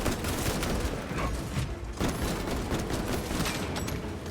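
Rapid, punchy bolt pistol fire in a video game, with dense, loud bursts of shots following one another almost without pause for the whole stretch.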